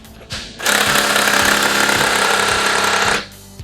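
A power impact tool loosens the wheel nuts on a Lotus Evora during a rebuild, giving a loud, close burst of rapid hammering that lasts about three seconds and then stops.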